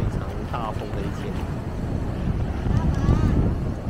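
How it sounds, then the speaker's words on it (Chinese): Strong wind roars at a South China Sea beach campsite in December surf, a loud, steady buffeting rumble across the microphone with a voice speaking faintly underneath. "今天将会也是非常大风的一天。"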